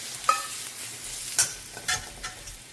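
Pointed gourd sizzles in a pan with spices including Kashmiri chili powder, while a utensil stirs and scrapes it in a few distinct strokes over the steady frying hiss.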